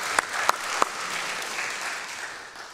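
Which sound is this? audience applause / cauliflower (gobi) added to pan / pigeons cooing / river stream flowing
audience applause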